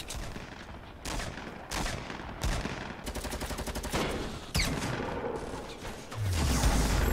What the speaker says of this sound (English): it sounds like someone's firing a gun outside my house